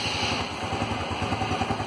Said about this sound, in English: now let's hear the exhaust note.